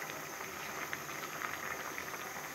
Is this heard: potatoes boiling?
yes